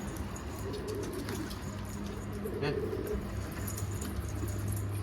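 A young pigeon chick gives soft, low cooing calls close by, repeated in short bursts over a steady background hum, while someone talks nearby.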